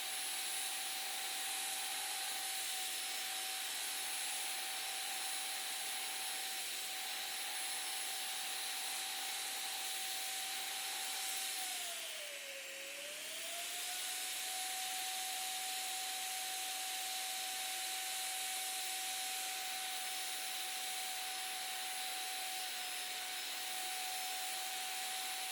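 Steady high whine of a Wagner FinishControl 5500 XVLP paint sprayer turbine running continuously, briefly dipping in pitch midway before settling back to a constant drone.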